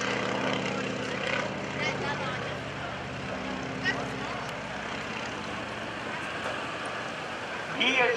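A 3,000-pound propeller airplane flies low and slow at a naval air station airshow. The engine drone is steady and fairly loud, with a commentator talking over it throughout.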